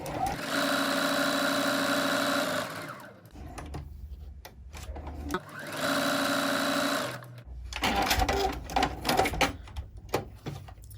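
A sewing machine top stitching a fabric sunglass pouch runs in two sustained bursts, a close buzzing whir, each followed by clicks and fabric handling noises.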